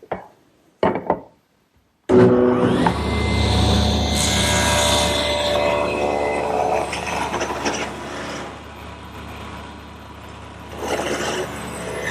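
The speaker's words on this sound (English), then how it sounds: "taking this 3/4 inch cherry and ripping 1/8 of an inch off of each face" After a few short knocks, a saw spins up and rips a thin 1/8 inch strip off the face of 3/4 inch cherry, a sustained loud whine and cutting roar that shifts in tone as the wood feeds through.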